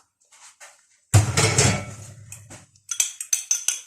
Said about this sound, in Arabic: هقلب بقى كده كويس قوي البيضه مع الخل